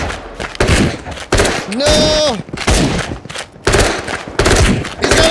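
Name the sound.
shotgun fire in the VR video game Into the Radius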